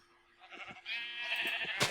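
A sheep in modded Minecraft gives a nasal, wavering bleat, rising and holding before a short second call, heard close against soft game sounds on a ranch wool farm.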